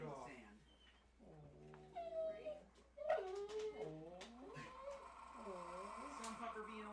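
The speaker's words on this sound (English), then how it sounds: "Some pupper being a whiner." A dog whines off camera in drawn-out, wavering cries, repeated several times beneath people talking during a tabletop Dungeons & Dragons session.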